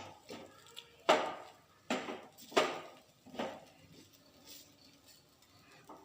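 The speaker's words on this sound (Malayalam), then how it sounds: "ഞാൻ കുറച്ച് നെയ്യ് ചേർത്ത് കൊടുത്ത് നെയ്യ് ഇതൊന്നും ഇളക്കി കൊടുത്താൽ മതി" A spoon stirs upma with ghee in a pan, making a handful of distinct scraping strokes at a slow, steady rhythm, close and fairly quiet, followed by softer stirring.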